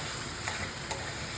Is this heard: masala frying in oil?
yes